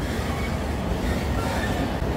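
Trains standing at the platforms of a Hauptbahnhof, national Intercity and regional services, give a steady broad rumble of station noise with low mechanical hum and no distinct wheel squeal, continuous and fairly close.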